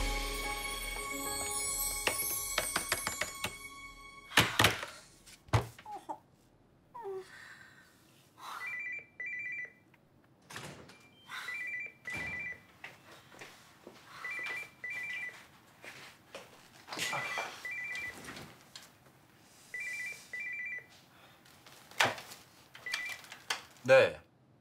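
A telephone rings in a repeated pattern of short double trills, clear against quiet room sound, with people talking between the rings.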